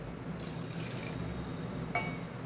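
Milk pours into brownie batter in a bowl, a faint steady liquid trickle with a small clink near the end, heard alone without talk.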